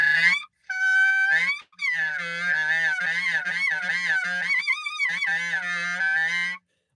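Clarinet played with poor embouchure, giving a harsh, nasal honk: a run of buzzy sustained tones with a few brief gaps, loud and close, alone without talk.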